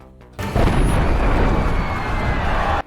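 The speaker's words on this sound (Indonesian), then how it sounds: "Tidak lama lalu terdengar ledakan bom di luar plaza" A bomb goes off outside a plaza in a film scene: a sudden loud blast erupts and sustains as a dense, roaring rumble for over two seconds, then cuts off sharply.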